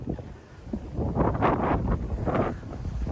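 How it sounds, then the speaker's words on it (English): Strong wind buffets the microphone in loud, rumbling gusts that surge and ease without pause, on a cold day outdoors in Ryogoku, Tokyo. "so cold, so windy"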